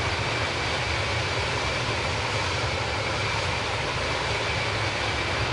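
Airbus airliner engines drone steadily in flight in Microsoft Flight Simulator, a constant, even roar with a faint high whine and no variation throughout.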